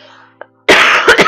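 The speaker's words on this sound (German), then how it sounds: "warum habe ich jetzt immer so einen Hustenreiz, ey?" Harsh coughing from a person during a Final Fantasy VII Crisis Core gaming session, a loud burst of two or three close coughs after a faint click, near and alone.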